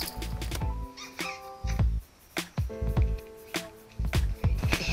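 A cat meows repeatedly in short, fairly loud, close calls with brief gaps, heard soon after arriving at a mountain bike event in Rotorua.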